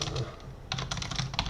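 Rapid, uneven clatter of keys on a computer keyboard as code is typed during a competitive programming session, close and fairly quiet, with short bursts and brief pauses.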